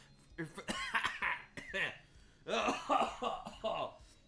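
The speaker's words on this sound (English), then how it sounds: "cut that terrible coughing fit out" A short burst of harsh, rough coughing mixed with throat clearing, close and fairly quiet, in several spluttering bouts.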